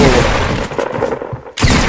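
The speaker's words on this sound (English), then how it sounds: "he shot me through my wall" Gunfire in Fortnite: a loud, close burst of rapid shots that cuts out briefly, then a fresh blast starts right away.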